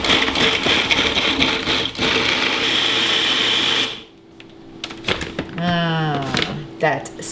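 Peppers, garlic and a spice mix for Georgian ajika hot pepper sauce whir loudly in a blender for about four seconds in a steady grinding roar, then stop abruptly as a voice begins talking.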